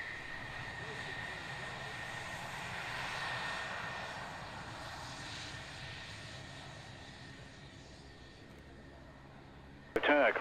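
Display aircraft engine roaring steadily at an airfield while taking off from runway 27, a broad sustained drone swelling and easing, ending in a sudden loud burst.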